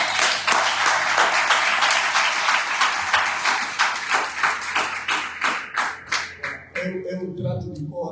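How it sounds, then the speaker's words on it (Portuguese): Audience applause fills a church leadership conference hall, dense and loud at first, then thinning into separate claps that fade toward the end. "Gostava que aplaudíssemos forte"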